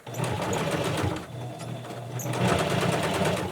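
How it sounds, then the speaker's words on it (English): A sewing machine runs steadily while stitching half-inch bias tape onto a fabric face mask, a continuous close mechanical whir with a brief slowdown midway before picking back up. "so I've sewn the 1/2 inch bias tape"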